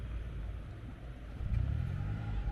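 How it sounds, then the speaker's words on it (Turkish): The petrol engine of a 2022 Toyota Yaris Cross Hybrid runs as a faint, low rumble nearby, swelling noticeably partway through. "Benzinli motor çalıştı, şimdi sustu."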